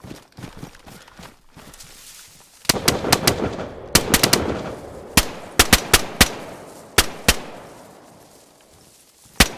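Gunfire in the game DayZ: bursts of rapid shots and single sharp cracks ring out loud and close over a soft shuffle of footsteps, with the gunshots spaced irregularly across the stretch.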